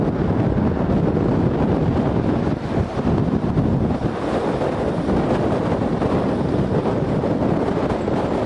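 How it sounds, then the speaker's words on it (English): Strong wind buffets the microphone on a flyover leading into Dover, a constant loud roar and rumble that fills the whole stretch without a break. "So this is the flyover into Dover. Back into the wind."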